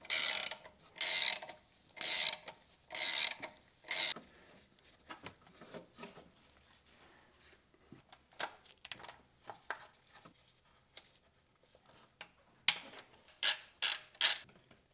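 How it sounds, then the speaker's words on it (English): Breaker bar and 19 mm socket turning a bolt on a neglected 1990s Toyota 90 Series Prado, giving five loud, evenly spaced ratcheting bursts, then quieter scattered clicks and taps, then a few more sharp ratchet bursts near the end. "just take your breaker bar and your socket, it's a 19 in this case"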